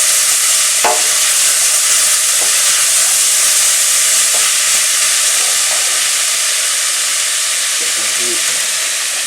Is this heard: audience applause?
no